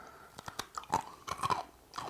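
Someone crunches and chews Taco Bell chicken nuggets with a crispy coating, giving close, loud bites and irregular wet chewing sounds with no talking.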